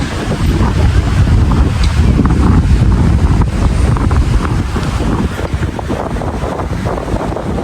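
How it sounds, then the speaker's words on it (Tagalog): Strong seaside wind roars and buffets the microphone, a loud, steady rumble with gusty surges and no voices. "Lakas ng hangin."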